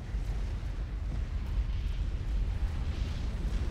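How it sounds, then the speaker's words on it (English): A support commander unit blowing up in the Supreme Commander strategy game, heard as a deep, continuous rumbling roar that holds steady for several seconds. "I hear an explosion."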